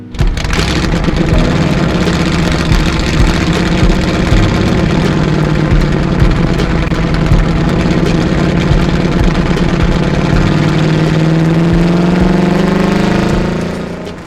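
A handbuilt Ford flathead hot rod engine runs loud and close for the whole stretch, a dense continuous rumble that shifts in pitch as it moves along, with no talking.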